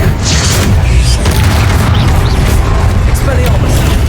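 Fire spell cast in Hogwarts Legacy during a fight with a giant guardian. It comes through as a loud, sustained booming roar with crackling bursts, and game effects layered over continuous low rumble.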